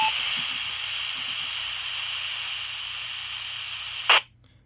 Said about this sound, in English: You can hear a lot more static on there